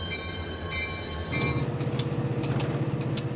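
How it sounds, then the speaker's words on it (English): A freight train sounds two short horn blasts, then rolls on with a loud, continuous rumble and rhythmic clatter of wheels over the rails. "A new crew comes aboard, and the train moves on"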